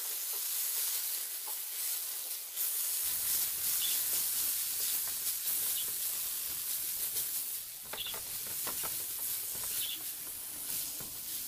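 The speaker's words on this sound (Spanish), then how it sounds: "Voy a poner una cucharadita más de manteca de coco" Onion frying in coconut lard for a chicken and vegetable soup: a steady bright sizzle and hiss with small crackles and pops that swells after a quiet start and keeps going, close and alone without talk.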